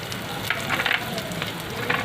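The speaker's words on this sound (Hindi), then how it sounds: "मसालों को भी अच्छे से भून लेना है" Spices with turmeric and coriander powder sizzle and fry steadily in a hot pan for a Konkani-style kulith (horse gram) dal tarkari, with brief stirring scrapes and crackles rising above a constant close hiss.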